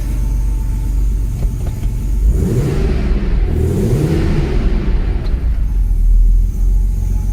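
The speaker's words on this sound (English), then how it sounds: "Very awesome and rewarding sound from the engine and from the exhaust" A 1979 Porsche 930 Turbo engine rumbling up close, deep exhaust burble rising as revs climb then settling back to a steady idle.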